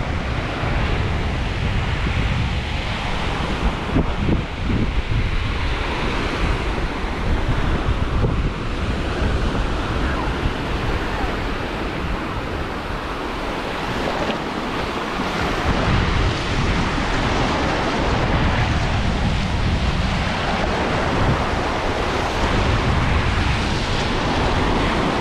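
Sea waves roll onto the beach at Playa Mamitas in Playa del Carmen, a continuous loud surf wash mixed with heavy wind buffeting the microphone, no talking.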